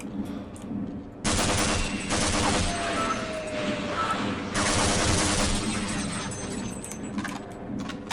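Rapid automatic gunfire from a weapon in the PC game Half-Life, two long dense bursts of fast shots, loud and close, separated by a brief lull with some quieter game noise around them.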